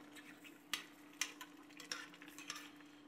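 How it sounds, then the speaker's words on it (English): Ketchup being stirred into a simmering Coca-Cola BBQ sauce, with a few soft spoon taps and scrapes against the pot over a low sizzling bubble, quiet and close with no voices. "Then we go in with our ketchup. We're going to stir this in."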